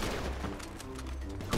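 Rapid gunfire in the video game GTA V Online, a dense continuous burst of shots forming a muffled fusillade, fairly loud and close, with a sharper hit at the end.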